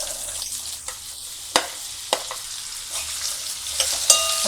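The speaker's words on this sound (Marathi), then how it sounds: "त्यावरती आपण कैरीच्या फोडी घालूया." Raw mango pieces sizzle in a hot tempering with asafoetida. The frying hiss is steady and close, with occasional sharp taps as a spoon stirs the pan, and no voices.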